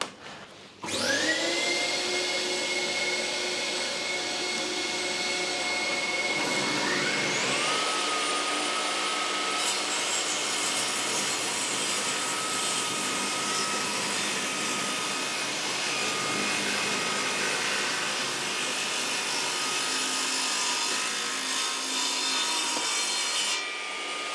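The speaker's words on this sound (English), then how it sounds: "I'm just going to rip a small bit of this." A Bosch GTS 10XC table saw spins up with a rising whine and rips through 2-inch oak, holding a loud, steady cutting roar for about twenty seconds before winding down.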